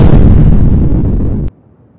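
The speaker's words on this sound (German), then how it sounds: "Das hat sich wie eine Explosion angehört." A loud, deep explosion rumble that roars for over a second, then cuts off abruptly into near silence.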